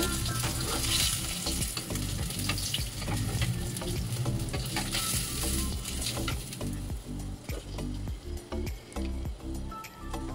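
Rui fish pieces sizzle steadily in hot oil in a home kitchen pan, a dense crackling fry with occasional stirring scrapes, loud and close throughout.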